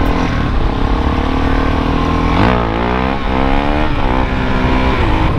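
A motorcycle pulls away after refuelling at a petrol station. The engine is loud and close, with a steady drone that swells into rising rev sweeps as it accelerates off.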